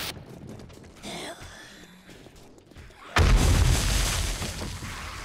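A pipe bomb goes off in the video game 7 Days to Die, a sudden loud booming blast after quieter scattered sounds and a breath, with a rumbling tail that lasts to the end.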